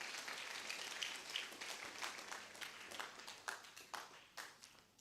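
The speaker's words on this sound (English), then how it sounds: "I thought you would clap for yourself for coming." An audience at an International Day of Mathematics Pi Day event claps, starting as a dense wash and thinning into scattered individual claps as it fades.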